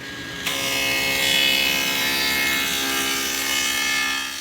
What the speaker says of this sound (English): I'm going to cut a dado along the bottom